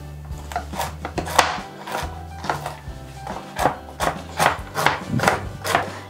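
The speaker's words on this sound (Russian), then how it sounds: "Довольно крупно нарезаем грецкие орехи" A knife chops walnuts fairly coarsely on a board for a salad, with about a dozen fairly even, close-up thunks in a steady rhythm and no talking.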